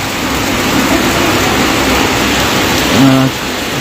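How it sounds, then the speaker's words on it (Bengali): Heavy monsoon rain pours down in Arambagh after a spell of heat, a loud, steady broadband wash that runs throughout with a brief low tonal hum near the end. "গরমের পর আবার স্বস্তির বৃষ্টি ধারায় বৃষ্টি নেমেছে এই মুহূর্তে"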